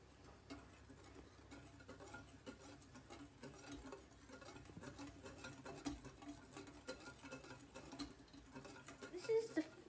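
A whole wheat sugar mixture being whisked in a bowl, producing a soft, quick, irregular scratchy patter that stays close and faint throughout.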